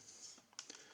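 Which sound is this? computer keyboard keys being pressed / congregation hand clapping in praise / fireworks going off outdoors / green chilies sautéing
computer keyboard keys being pressed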